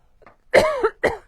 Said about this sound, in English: I told you I'm going to start coughing.